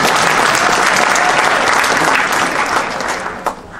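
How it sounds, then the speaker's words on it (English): An audience at an evening talk on traffic and parking breaks into loud, dense applause, sustained for several seconds before tapering off, close and full. "Please clap your hands with the appropriate amount of enthusiasm if you had trouble finding parking for the"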